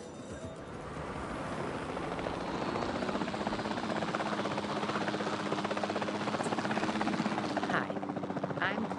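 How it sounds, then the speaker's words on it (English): Helicopter in the video game Jurassic World Evolution 2, a steady loud rotor thrum and engine whine that holds throughout, close and continuous with no voices. "We're going to immediately take control of this helicopter"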